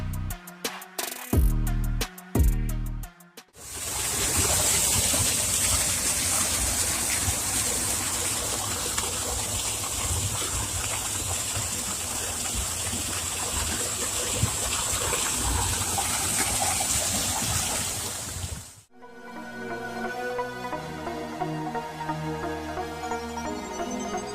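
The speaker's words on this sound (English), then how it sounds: "a forklift driver accidentally ruptures a high-pressure water pipe, leading to an immediate and powerful deluge" A forklift ruptures a high-pressure water pipe: a sudden, powerful roar of gushing water erupts and continues loudly for many seconds before cutting off abruptly, framed by musical sounds.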